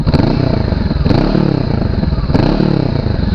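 A Honda CB500X motorcycle with a two-header exhaust revs up close and loud, its engine rising and falling in a few repeated throttle blips over a steady rumbling idle.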